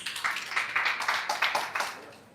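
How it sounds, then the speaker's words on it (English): An audience claps together at a training seminar, a quick run of sharp, even claps that holds steady and then thins out near the end. "Let us first give ourselves a big round of applause."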